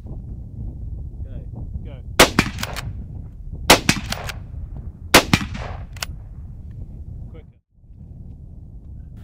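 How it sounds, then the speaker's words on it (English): Several straight-pull rifles fire in quick succession at a stationary target during a timed stalking-practice drill, sending out sharp loud cracks in small clusters of two or three over outdoor wind noise, with a brief spoken cue before the shooting. "Soon the shots are flying and the stopwatch is running."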